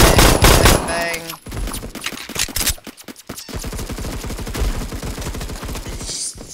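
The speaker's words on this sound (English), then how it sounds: "time to go around shooting people with my gun" Rapid bursts of gunfire from a video game gun, loud and close, with dense repeated shots in the opening second and more volleys returning through the rest, mixed with other game noise.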